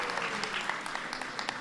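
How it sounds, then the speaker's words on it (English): Brief, faint applause from an audience at a White House Hanukkah event for the musical guests, a quick patter of scattered claps. "let's give a big round of applause to our musical guests"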